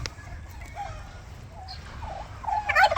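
Farmyard turkeys gobble and call in short bursts outdoors, faint at first and growing louder and closer toward the end over a steady low rumble.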